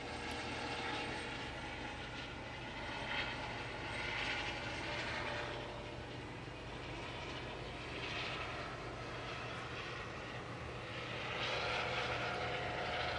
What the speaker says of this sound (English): you can hear the helicopter overhead.